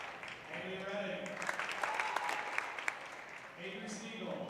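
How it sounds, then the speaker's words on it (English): Crowd applause at a junior varsity girls' basketball game, steady broadband clapping filling the gym for several seconds with a few sharper claps standing out and an announcer's voice over it. "Round of applause for our winner athletes."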